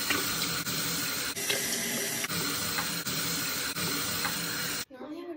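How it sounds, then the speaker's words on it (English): Water runs from a bathroom tap during face washing as a continuous loud hiss and splash, broken by brief dips, then cuts off near the end, leaving a quieter tail. "I'm gonna wash my face."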